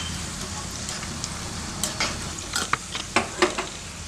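Cashews and raisins frying in ghee in a pan for Diwali boondi laddu, a steady soft sizzle throughout with scattered brief stirring clinks and scrapes growing more frequent toward the end.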